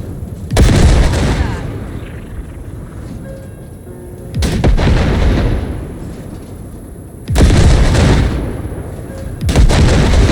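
Heavy gunfire from the Basilisk, a cargo-ship combat vehicle, blasting wrecks in the video game Cyberpunk 2077, coming as four loud booming bursts with a low rumble between them.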